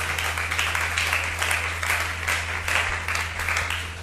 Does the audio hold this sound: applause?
yes